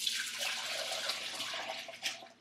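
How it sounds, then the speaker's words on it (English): Simmered clam broth poured through a strainer, a steady soft stream of liquid splashing and trickling, close and fairly quiet, with no talk. "I need to strain it, so I'm going to go ahead and do that."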